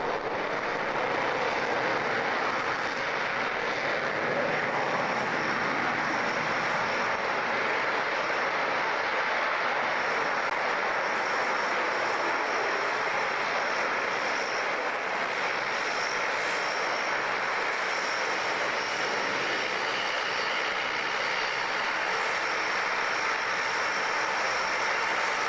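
Aircraft engine droning steadily and evenly at moderate loudness, a continuous broad roar with no pauses and no talk over it.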